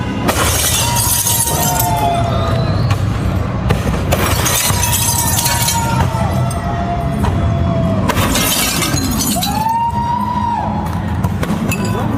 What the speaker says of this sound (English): the sound of breaking glass got picked up so well by those microphones